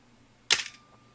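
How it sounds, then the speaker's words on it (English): A single sharp, close camera shutter click at a two-second exposure, with a brief snap and a short mechanical tail, otherwise near-silent. "The next one will be 2 seconds, and then you definitely can see that it opened for a long time."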